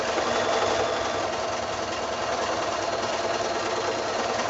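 A sewing machine runs continuously while stitching a quilted wall-hanging, giving a steady, fast mechanical whir and rattle that stays close and even in loudness throughout, with no voices.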